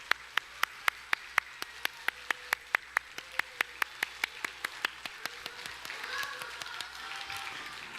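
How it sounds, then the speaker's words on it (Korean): A church congregation claps to welcome new young members at a Sunday service, a steady run of crisp claps that thickens into a fuller wash of applause and murmuring crowd noise toward the end. "우리 어른들 모두가 축복하는 그런 박수와 환호로 이들을 환영해 주시기"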